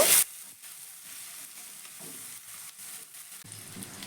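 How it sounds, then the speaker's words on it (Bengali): Ginger and garlic paste frying with onions in a pan, a soft steady sizzle with faint stirring scrapes throughout, after a brief louder burst at the very start. "এবার আদা রসুনটাকে ভালো করে একটু ভেজে নেব"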